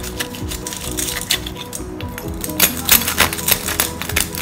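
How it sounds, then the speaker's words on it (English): A serrated knife saws through the crackling skin of an oven-baked, garlic-roasted pork knuckle, giving dense crunchy crackles and snaps that grow louder toward the end. The crunching is close-up, with no talking. "You can listen to how crispy the pork is actually."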